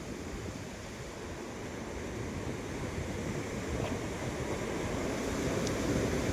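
Rough sea waves crash and wash onto the Gujarat shore near Uncha Kotda as a continuous low roar that swells slightly toward the end. Wind buffets the microphone and no one speaks.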